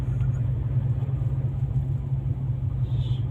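A car on the move, heard from inside as a constant low engine and road rumble with no changes in pace, loud and close throughout.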